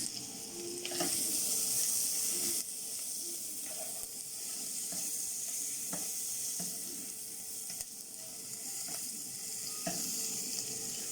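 Chicken pieces for a crispy marinated chicken dish frying in a pan, giving a steady close sizzle and hiss with occasional faint clinks, no voices.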